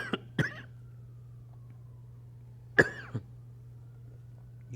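Three or four separate coughs during a sermon, sharp and fairly close, with long quiet pauses between them over a low steady hum.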